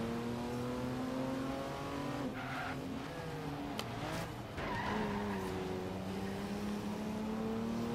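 A Lamborghini SUV driven in the video game Forza Horizon 3, its engine droning loudly and steadily, with pitch rising and falling through gear changes and brief tire skids, no talking.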